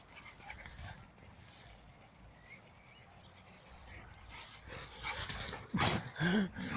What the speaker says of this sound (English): Two hyper doggies.